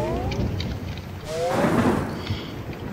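A thunderstorm in Wobbly Life sends a deep roll of thunder swelling through the middle over steady falling rain, ending in a brief louder crack.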